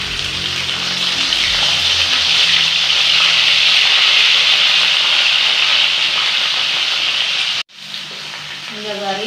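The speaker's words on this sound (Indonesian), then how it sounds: "Dan terakhir kita akan menggoreng ikan teri ini" Anchovies frying in hot oil until crisp, a steady loud sizzle and crackle throughout, broken by a brief sharp cut near the end before the frying resumes.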